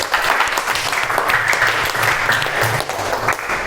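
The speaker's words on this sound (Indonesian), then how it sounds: "Beri tepuk tangan untuk Mas Faris." A group in a classroom or meeting room applauds steadily for a speaker, a dense, continuous patter of clapping lasting several seconds with no talk over it.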